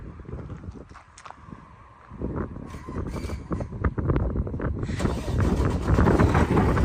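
A 2009 Mack Pinnacle CHU613 truck engine starts and settles into a steady, loud idle and run, with a low rumble and wind buffeting the outdoor microphone.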